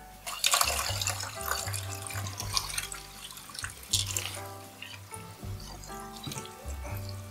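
Cold water runs from a kitchen tap during Christmas dinner preparation of a bird, a steady splashing flow with a few clunks and shifts in the stream as it hits the sink.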